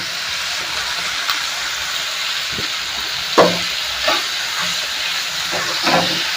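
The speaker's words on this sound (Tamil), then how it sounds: "இந்த சவ் சவையும் போட்டுக்கிறேன் போட்டு நல்லா வதக்கிக்கலாம்" Chopped chayote sautés in a pan with a steady close hiss and sizzle, broken by a few soft stirring knocks and scrapes, and no one talking.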